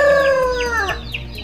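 Chickens clucking behind a house: a close, loud rooster crow followed by several short clucks, with no talking.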